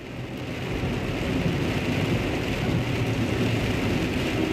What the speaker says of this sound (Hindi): पिछले काफी देर से मुंबई के कई इलाकों में जोरदार बारिश हो रही है।